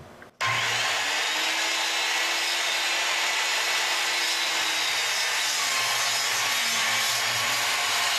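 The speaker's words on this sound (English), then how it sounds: "My saw is still set to a 45-degree bevel, and I'll cut following my plumb line on the top end of my jack rafter." A power saw set to a 45-degree bevel rips through the top end of a wooden jack rafter, a loud steady whine of the blade biting wood that runs without a break after a short start.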